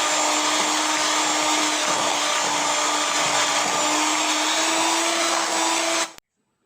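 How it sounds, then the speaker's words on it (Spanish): An electric mixer beats cheesecake filling after cream is added: a loud, steady motor whine with a constant pitched hum that holds unchanged for about six seconds, then cuts off abruptly into silence. "Voy a seguir batiendo."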